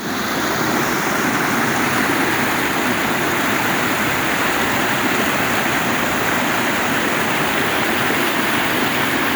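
The Eersterivier river rushing near its confluence with the Blauwklippenrivier, a loud, dense, unbroken roar of flowing water heard close up, with no voices.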